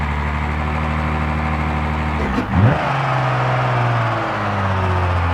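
A manual car's engine drones steadily, then briefly dips and surges as the clutch is released during a rev-matched shift, settling back to a continuous mid-pitched hum with no talking.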